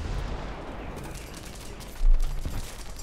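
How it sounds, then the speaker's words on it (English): Machine gun fire from an E.B.R. (1954) armoured car in the War Thunder tank battle game, a steady rattling stream mixed with engine rumble, with a louder burst near the end. "I kill him with the machine gun out of all the things"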